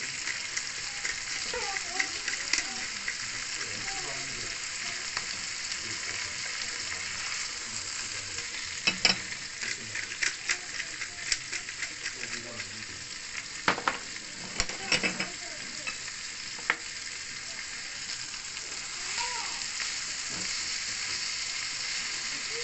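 Japanese-style beef steak frying in a pan, a continuous loud sizzle with intermittent scraping and stirring clatter throughout, no voices.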